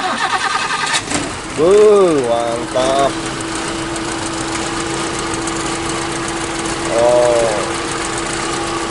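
A 1987 Honda Civic Wonder cranks briefly and fires up, then settles into a smooth, steady idle with a faint whine; a brief blip of revs comes later, and someone speaks a couple of short words over it.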